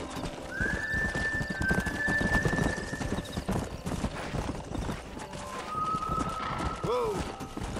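Horses' hooves clip-clop steadily in a Red Dead Redemption scene in New Austin, with a couple of drawn-out whinnies rising above the hoofbeats and a voice talking faintly underneath.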